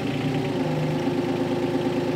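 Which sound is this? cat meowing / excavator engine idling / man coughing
excavator engine idling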